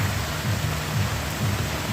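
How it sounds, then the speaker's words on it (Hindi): Heavy rain pours down in a dense, continuous hiss with a low rumble beneath, steady and loud throughout without any voices. "और देखिए इस तरह से बारिश हो रही है झमझमाझम।"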